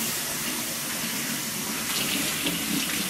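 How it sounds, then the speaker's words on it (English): Cold tap water runs steadily into a kitchen sink over raw chicken, a continuous loud, close splashing hiss with no pauses. "just running this under cold water here."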